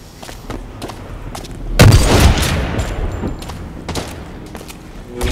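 A sniper rifle fires in the video game Blacklight, one loud, heavy booming shot that rings out over scattered distant gunfire and clicks, then decays slowly.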